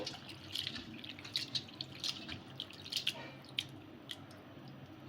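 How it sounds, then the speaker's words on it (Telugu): Water sloshing and splashing as flattened rice (poha) is rubbed and squeezed by hand in a bowl to rinse off dust, with irregular wet squishes and drips, no voices. "ఇలా నీళ్ళు అనేది వేసేసుకొని చేతితో బాగా అనుకుంటే మనకి డస్ట్ అంతా కూడా పోతుంది"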